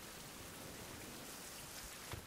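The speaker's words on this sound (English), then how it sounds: "You can think about the fact it's raining, so all this stuff is full." Steady rain falls in a survival video game as a dense, even hiss of drops that carries on without a break. It is faint overall, with a slight rise right at the end, and no voices can be heard.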